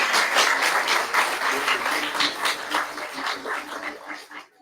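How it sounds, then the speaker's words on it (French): Audience applause at a youth event, a dense wash of many hands clapping loudly at first, then thinning and fading out toward the end. "On l'applaudit très, très fort."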